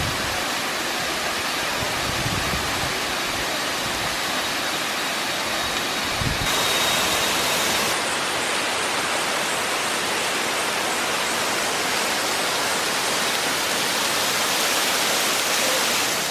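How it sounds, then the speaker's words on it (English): Diamante Falls in Costa Rica roars as a dense, steady wash of falling water, heard up close from a cave behind the waterfall, loud and unbroken with no voices. "we're in a cave behind a waterfall"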